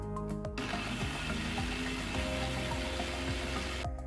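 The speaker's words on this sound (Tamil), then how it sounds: "இப்போ வந்து இது நல்லா கூல் டவுன் ஆகிட்டோன்னு நான் வந்து மிக்சியில் போட போகிறேங்க" A mixer grinder blends cooled boiled beetroot pieces, a loud continuous motor whir with rhythmic churning pulses, starting and stopping sharply.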